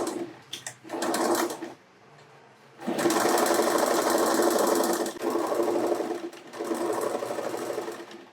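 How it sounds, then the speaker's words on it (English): Sewing machine stitching fabric into a bag, running in short bursts and then longer steady runs of rapid mechanical whirring, close and fairly loud, with no talking. "And we will continue sewing until you reach the end."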